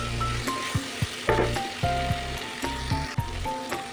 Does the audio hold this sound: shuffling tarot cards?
no